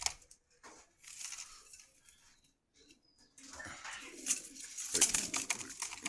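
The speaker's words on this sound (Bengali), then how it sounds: "এই একটা মাদি কবুতর, এই একটা মাদি কবুতর" Female pigeons coo softly in short, intermittent bursts at a pigeon market in Meradia Bazar, Khilgaon, Dhaka, mixed with light rustling and handling noises close by.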